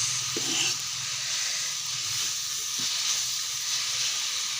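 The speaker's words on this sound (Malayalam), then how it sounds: "കുരുമുളക് പൊടിയും ഉപ്പ് ഒഴിച്ച് നമ്മൾ വഴട്ടുകയാണ് കേട്ടോ." Pepper powder and salt sautéing in hot oil in a pan, giving a steady, even sizzle and hiss that holds for several seconds with only faint low knocks beneath it.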